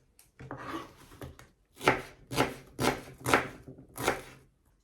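A knife chops onions steadily on a board, several firm rhythmic strokes with short pauses between, close and clear.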